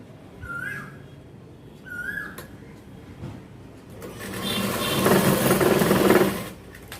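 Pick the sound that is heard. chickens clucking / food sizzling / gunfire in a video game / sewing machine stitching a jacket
sewing machine stitching a jacket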